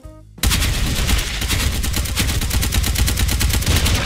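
Sustained automatic fire from a Galil White rifle in the shooter game Special Force 2, a loud, rapid, evenly spaced stream of shots that starts abruptly and runs unbroken to the end.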